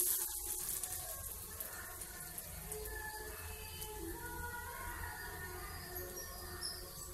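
Falafel balls frying in oil over a medium flame in a home kitchen, giving a steady, close crackling sizzle with fine bubbling that runs throughout without talk.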